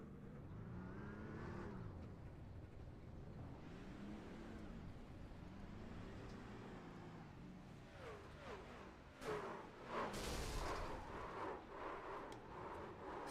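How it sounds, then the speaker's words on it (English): A racing truck engine in a racing video game at Chicagoland Speedway, revving and rising and falling in pitch through repeated sweeps, then building into louder, harsher bursts near the end with no voices. "Don Crone is going to try and attempt to maneuver this truck back."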